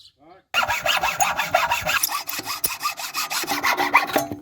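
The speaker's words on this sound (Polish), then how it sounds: "tniemy piłką i jedziemy dalej z robotą" Hand saw cutting a wooden board for a bird feeder roof, a close, loud and rhythmic back-and-forth rasp of strokes following a brief quiet start.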